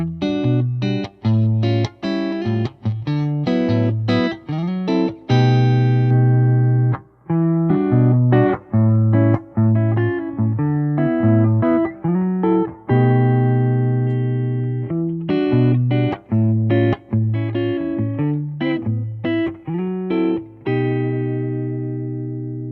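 A PRS Chleo electric guitar on its isolated bass pickup plays a melodic run of clean, bright single notes and chords, loud and close, stepping through voice settings 3 to 1 with steady picking and ringing sustain.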